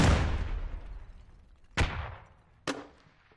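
Gunfire trades back and forth during a competitive match of the game on the Logar map, with two sharp separate shots cracking over a decaying rumble of earlier fire.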